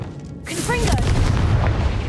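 In Hogwarts Legacy, the Confringo blasting spell goes off with a sharp, booming explosion, a quick swirl of zipping magical chirps, then a loud, rumbling wash that carries on to the end.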